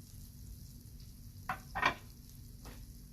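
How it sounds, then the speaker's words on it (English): Onions being added to hot oil with pre-cooked sausages, a faint low sizzle that briefly swells into a few sharp hisses and scrapes in the middle. "So the sausages are pre-cooked, so it's pretty easy method. Add the onions"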